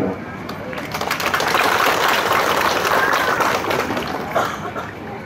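Audience applause at a Catholic village gathering for a 700th founding anniversary, a sustained crowd clapping that swells and holds for several seconds, moderately close, with a voice speaking over it.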